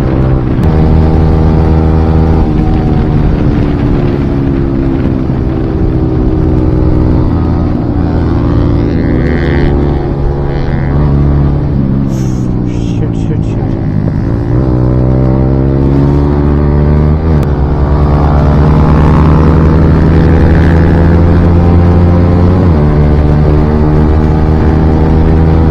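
A KTM Duke 200 and a Yamaha MT-15 racing side by side on the road, their engines droning loud and close with steady harmonic tones that dip and climb through gear shifts, under constant wind rush.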